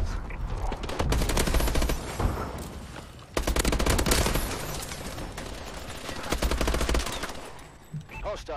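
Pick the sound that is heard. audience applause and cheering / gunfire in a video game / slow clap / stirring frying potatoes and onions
gunfire in a video game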